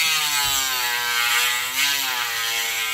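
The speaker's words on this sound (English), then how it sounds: "sand it down to the line." A prop helmet ear piece is being sanded down to a marked line. A close, steady whining tone with a gritty hiss holds for the whole stretch and drifts slightly in pitch.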